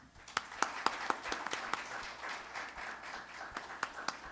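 An academy audience gives welcoming applause for Jorge Fernando at a formal session, with moderately distant clapping that rises and then settles into scattered individual claps.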